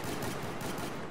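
Rapid gunfire from a pistol in the video game Battlefield 4, a dense stream of loud shots running continuously through the short moment with no pauses.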